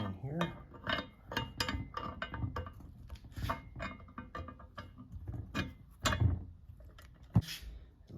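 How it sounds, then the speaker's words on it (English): Metal parts of a Porter Cable 3.2 amp drill press click and clink as the worm gear is fitted by hand: a series of light, close taps and rattles, with a couple of sharper knocks near the end. "The next step is to install the worm gear."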